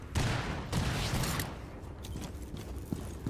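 Rapid gunfire bursts in Rainbow Six Siege, a dense fusillade of sharp shots up front, then scattered cracks and mechanical clatter trailing off, fairly close.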